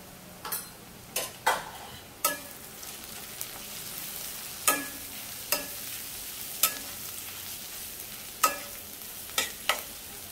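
Ground turmeric, red chilli powder, coriander powder and garam masala stirred into softened onions in a pan, a spoon scraping in sharp, spaced knocks about once a second over a faint steady sizzle.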